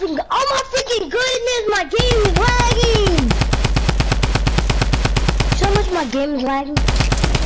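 Rapid automatic gunfire in a video game, aimed at a tree, rattling in an even, fast stream for several seconds while players talk loudly over it.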